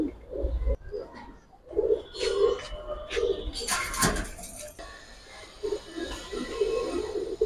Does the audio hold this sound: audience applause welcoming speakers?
no